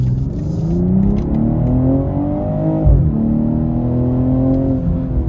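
A 2022 BMW M240i xDrive's turbocharged six-cylinder engine pulls hard under acceleration, its rising drone climbing in pitch, briefly dropping around a gearshift, then building again, loud and close from inside the car with no talk.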